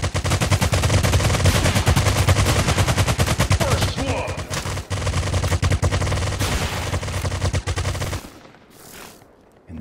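Rapid, loud automatic gunfire in the browser FPS Crypto Shots, firing nearly continuously with brief gaps before cutting off near the end, with faint speech underneath.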